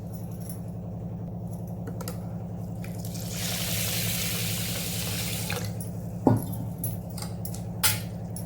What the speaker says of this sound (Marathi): आता याच्यात मी अजून आता पाणी घालणार आहे